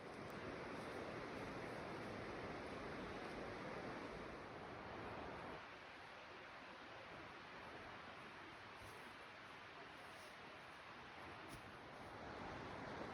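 A river flows past a backcountry campsite on a multi-day backpacking trip, a steady broadband rush of water that stays constant and fairly faint, with no talking over it.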